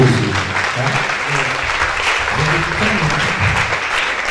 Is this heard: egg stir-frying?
no